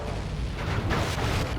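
Ship cannons firing in the Sly 3 video game, a sequence of deep booming blasts rolling over one another in a continuous heavy rumble, with a couple of sharper reports standing out near the end.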